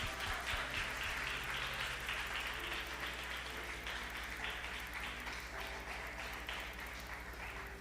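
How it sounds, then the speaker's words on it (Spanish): Church congregation applauding during a Spanish-language worship service, a steady dense wash of clapping at even loudness throughout, with no speech over it. "Un aplauso al Señor."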